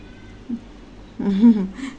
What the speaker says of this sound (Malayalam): ഒരു പൂച്ചക്കുട്ടി തൊടിയിൽ കൂടെ പോകുന്നുണ്ട്